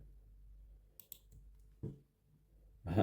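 Computer mouse clicks in an app-building session: a few sparse, faint clicks spaced irregularly over near-silence, ending in a slightly louder burst of clicking.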